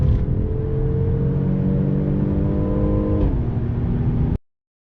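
A Mercedes-Benz GLC 43 AMG drives and accelerates with a steady, loud engine rumble and whir. The pitch shifts near the end before the sound cuts off abruptly, and no one speaks.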